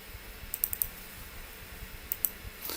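Code typed on a computer keyboard in an ASP.NET Core MVC 6.0 project, heard as steady soft key clicks with a few sharper taps, close and quiet, with no talk.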